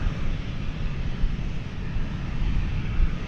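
A Reno Air airliner in its mountain-tail livery rolls along a runway at Dallas/Fort Worth airport, a steady broadband engine roar with low rumble holding even and fairly near throughout, wind buffeting the microphone.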